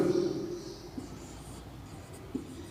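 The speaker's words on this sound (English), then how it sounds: "I write again both sets." Writing out maths on paper with a pen: soft, close scratching that is strongest at the start, then light faint strokes and a couple of small taps over a low background hiss.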